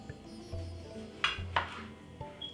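A knife slices through a tomato on a cutting board while making a salad sandwich, giving a few quiet, sharp taps and clicks spaced out over a couple of seconds.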